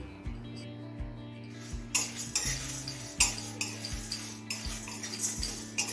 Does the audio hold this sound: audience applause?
no